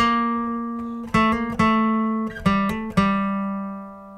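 A single guitar plays a short melodic phrase from a guitar solo, with several plucked notes ringing out and sustaining, clear and close with no talking.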